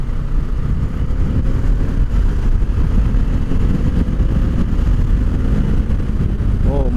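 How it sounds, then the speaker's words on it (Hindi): A Bajaj Dominar 400 motorcycle rides along with a steady, loud engine rumble and wind roar throughout, with no distinct rev changes. "ज़बरदस्त एक्सेलरेशन है इस बाइक का."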